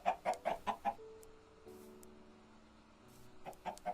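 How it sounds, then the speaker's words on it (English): A Minecraft chicken clucks five times in quick succession, then falls quiet beneath a steady low hum before two more clucks close it out. "The next animal is a chicken."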